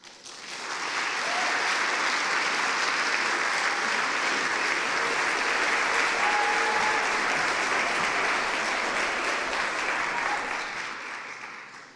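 A crowd claps steadily and loudly for several seconds, swelling in at the start and tapering off at the end.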